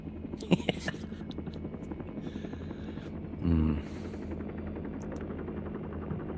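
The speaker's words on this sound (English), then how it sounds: "They always have those weird insectoid-looking helicopters, the Russians, don't they?" A Russian military helicopter thuds with a quiet, steady rotor beat, with a brief louder burst partway through, under a voice.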